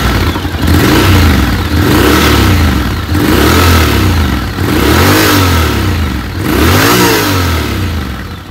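A Honda X-ADV 750 scooter engine revs repeatedly in a loud, close series of swelling throttle blips with a rough mid-range growl, each rise and fall lasting about two seconds.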